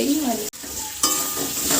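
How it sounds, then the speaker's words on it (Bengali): Ground cumin, coriander, ginger and dried red chilli paste fries in a pan for a tangra fish curry, a loud close sizzle with stirring scrapes and a brief break partway through. "দিয়ে এবার মশলাটা ভালোভাবে কষিয়ে নেব।"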